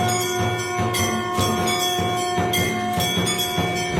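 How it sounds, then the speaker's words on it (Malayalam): A small bell is shaken over and over, its bright ringing tone sustained under a regular pattern of jingling strikes, loud and close, with no talking. "മണിയുടെ സൗണ്ട് മാത്രമേ ഉള്ളൂ"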